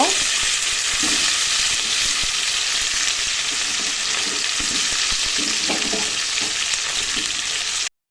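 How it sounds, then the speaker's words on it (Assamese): Potatoes frying in hot oil alongside a whole chicken, giving a loud, steady, continuous sizzle with occasional stirring clatter close up and no talking. "ইয়াতে মই এতিয়া আলুখিনি দি দিম আলুখিনিৰ লগতে ফ্ৰাই হৈ থাকিব"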